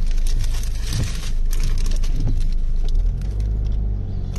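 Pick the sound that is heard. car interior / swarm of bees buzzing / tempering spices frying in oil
car interior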